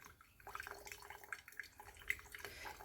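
Water poured fairly quickly from a kettle onto pour-over coffee in a home kitchen, a soft continuous trickle with scattered drips and splashes at close range, no talk over it.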